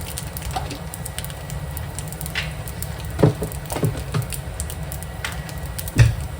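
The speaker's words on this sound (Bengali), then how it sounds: "এবার দিচ্ছি হলো শুকনো 2 কাঁচা লঙ্কা আর 5 ফোড়ন। দিয়ে দিলাম।" Dried chillies and Bengali five-spice hit hot oil in a pan, giving a steady close sizzle with occasional sharper pops and crackles throughout.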